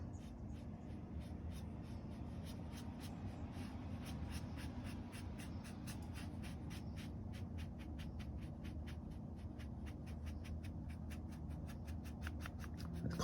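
A watercolor brush held sideways and dry-brushed over textured watercolor paper makes a quiet, rapid series of scratchy strokes in a steady rhythm throughout.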